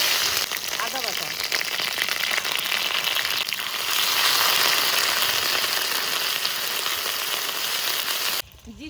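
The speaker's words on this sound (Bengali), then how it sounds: "এবার মশলা কষিয়ে নেবো।" Spice paste of onion and ginger frying in a pan with bay leaves and whole cumin, a steady loud sizzle that hisses continuously, with a speaking voice over it.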